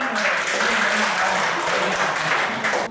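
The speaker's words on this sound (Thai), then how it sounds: "ขอเสียงปรบมือนะครับ" Audience in a training seminar applauds steadily, a dense, continuous wash of clapping that stays loud throughout with no pause.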